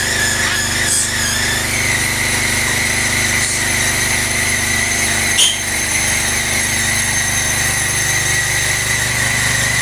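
A small engine drones continuously at high pitch and steady volume, with a brief knock partway through.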